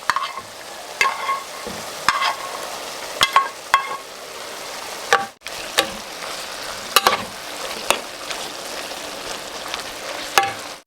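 Previously cooked king oyster mushrooms stir-fried in butter in a hot pan, a steady loud sizzle broken by regular scraping knocks of the utensil against the pan about once a second.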